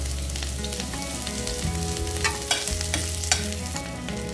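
Onion and garlic frying in olive oil in a pan, a steady close sizzle with stirring scrapes and clinks throughout, no talking.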